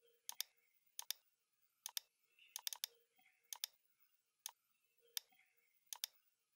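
Computer keyboard being typed on in short bursts of crisp, close clicks with brief pauses between them, quiet and without speech.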